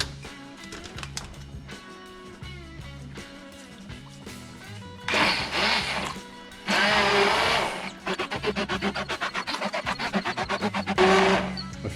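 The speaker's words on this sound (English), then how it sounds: "Now we can hit it with our stick blender." A stick blender whirs through rustic carrot soup in loud sustained bursts, with a short burst first, then a longer steady run and a pulsing, chopping stretch, set against quieter kitchen clatter and a low hum.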